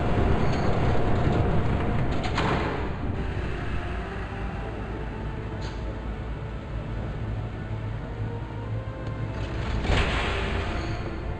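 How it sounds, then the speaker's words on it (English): A steady, loud rumbling roar of a passing train in a Batman video game fills the whole stretch, with a few brief metallic clanks rising over the constant rush. "There's a train coming."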